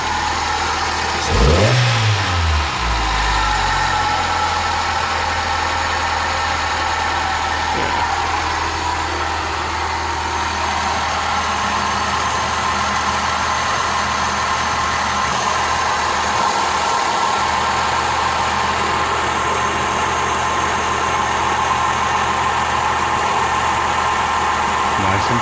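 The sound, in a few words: Toyota Carina car engine idling after an oil service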